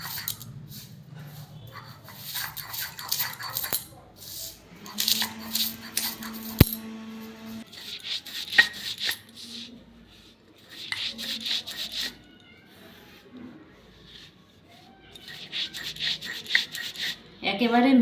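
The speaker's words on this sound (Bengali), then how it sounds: "শিলপাটায় যে সমস্ত কিছু উপকরণ ভেজে রেখেছি এগুলোকে আমি গুঁড়ো করে নেব।" Roasted ingredients being ground to powder on a stone grinding slab, with repeated rough rasping strokes in uneven bursts and short pauses between them, close and moderately loud.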